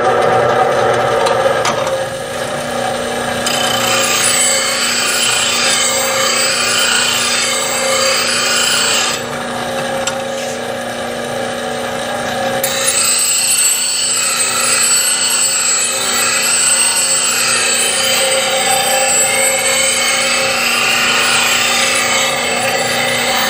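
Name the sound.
sharpening a woodturning tool on a grinding wheel with a fixture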